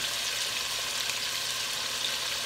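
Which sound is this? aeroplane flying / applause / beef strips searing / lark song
beef strips searing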